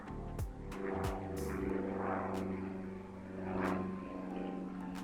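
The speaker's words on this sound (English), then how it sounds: "he's a bit low, that aeroplane." Propeller aeroplane flying low overhead, a steady droning engine hum that swells as it passes close, with a couple of brief knocks near the start.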